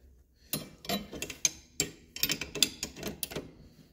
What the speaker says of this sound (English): I'm going to tighten this bolt down